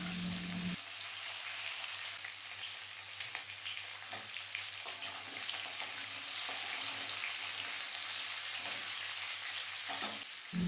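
Pumpkin and potato pieces stir-frying in a pan for Bengali puishak chorchori, a steady dense sizzle running throughout with occasional louder scrapes and clicks from stirring, close and alone.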